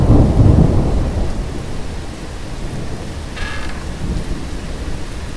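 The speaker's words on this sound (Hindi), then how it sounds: "बाहर बहुत तेज बारिश हो रही थी" A strong rumble of thunder fades under a steady roar of heavy rain, with the downpour continuing alone afterward.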